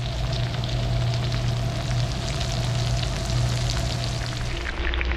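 Morel mushrooms fry in melted butter and hot oil, giving a loud, constant crackling sizzle that runs without a break and eases slightly at the very end.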